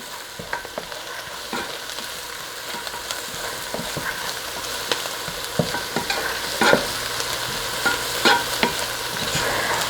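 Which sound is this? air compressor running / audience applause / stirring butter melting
stirring butter melting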